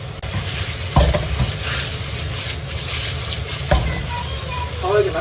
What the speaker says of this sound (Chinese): 开大火给它煎一下